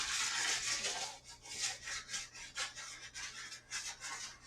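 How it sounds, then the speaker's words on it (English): Sanding a mirror frame by hand, a rhythmic rasping rub in repeated back-and-forth strokes, fairly quiet and close with no talking. "So the first thing is the sanding."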